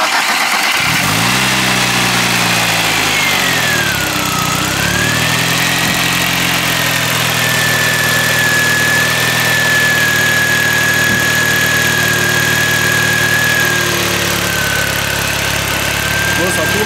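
A non-turbo 1.8 car engine idles steadily with a low, even rumble and a faint whine drifting in pitch, after a brief revving start.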